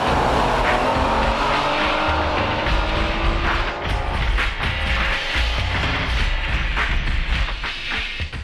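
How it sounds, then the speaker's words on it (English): A Honda Type R race car on a time attack lap at Suzuka circuit, running on larger-diameter tires: a loud, continuous engine roar rising and falling through gear changes, with tire squeal and road noise, close and without talk. "Now let's see a time attack, uncut, using optional larger diameter tires at Suzuka circuit."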